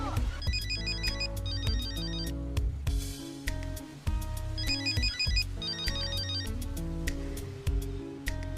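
A telephone rings with a melodic electronic ringtone, loud and close, repeating the same bright pattern several times without pause.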